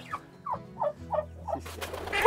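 A turkey gobbles close by in a farm setting, five quick rising calls in a steady rhythm, followed by a louder burst of rustling and noise at the end, with no talking.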